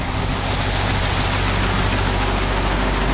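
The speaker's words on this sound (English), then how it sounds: "So that's the first truck unloading." B-train fertilizer truck with two trailers unloading granular blended fertilizer, a loud, steady rushing hiss of pouring granules over a low engine drone, constant throughout.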